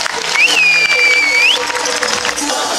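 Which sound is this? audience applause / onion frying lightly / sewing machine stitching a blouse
audience applause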